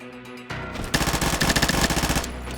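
Rapid automatic gunfire in the Combat Master first-person shooter, a fast run of loud, evenly spaced shots after a brief lead-in of quieter game sounds, with no talking.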